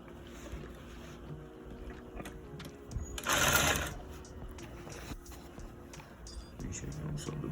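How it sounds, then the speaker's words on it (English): A sewing machine stitches a pocket bag together for a welt pocket, running as a steady mechanical whir with a louder burst midway, under occasional talk. "So let's just sew the bag together really quick."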